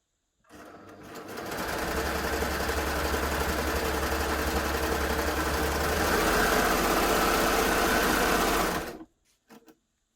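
A Baby Lock Gloria overlocker gathers fabric at maximum stitch length, running loud and close in one continuous whir of about eight seconds before stopping abruptly, followed by a couple of faint clicks.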